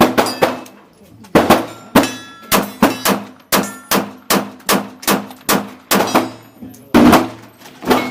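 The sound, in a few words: rapid fire gunshots from SCCY CPX-3 pistol at range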